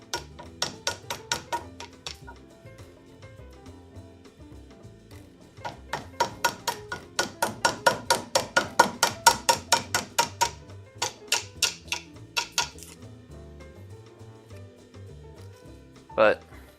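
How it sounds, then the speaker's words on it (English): Wood chisel tapped through a wooden sign board in rapid runs of sharp clicking strikes, close and fairly quiet, with brief pauses between bursts and a final heavier knock. "I gotta come out with my chisel"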